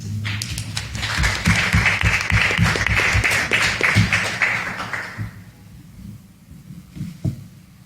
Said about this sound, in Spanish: así que les pido un aplauso nada más